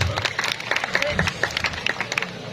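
Audience applause at an evening calon arang comedy stage show, dense clapping from a crowd running steadily throughout, with crowd noise and some voices mixed in.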